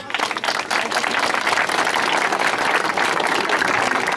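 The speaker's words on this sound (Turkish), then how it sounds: "Ve alkışlıyoruz kendisini." A crowd claps at an outdoor village picnic, a loud, dense and continuous round of applause that holds steady without a break and has no speech over it.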